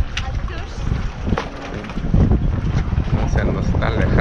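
A motorboat (lancha) on the lagoon at Bacalar, Mexico, drones steadily on the water as it pulls away, with gusts of wind buffeting the microphone throughout.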